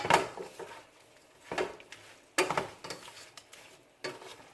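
Pepper shrimp being mixed in a pan: several sharp scraping strokes of a utensil against the pan, spaced irregularly, with a faint sizzle between them, close up and fairly quiet.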